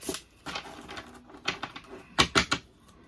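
A stiff deck of playing cards is shuffled by hand, giving bursts of quick riffling flutters and sharp snapping taps that come close and clear, with no talking.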